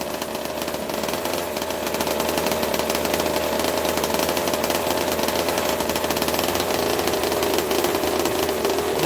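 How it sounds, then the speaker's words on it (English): A 26cc water-cooled gas engine runs steadily at a rapid buzzing pitch, loud and close, its speed rising slightly after the first couple of seconds and then holding a constant raspy drone. "26cc gas engine. Water cooling."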